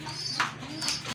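A pair of large Rampuri high flyer pigeons coo close by in two short, soft calls within about a second, over a faint background hum.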